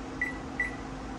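A kitchen microwave oven runs with a steady low hum and whir, heating a dish set for two minutes, while two short high electronic tones sound near the start.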